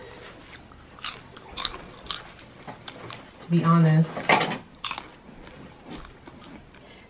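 Crunchy bites and chewing of food come close to the microphone in a short burst, with people talking over and around the crunching.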